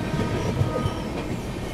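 The Nizamuddin–Thiruvananthapuram Express runs through Bilimora Junction without stopping, heard from on board as a steady, loud rumble of wheels and carriages with a faint rhythmic clatter.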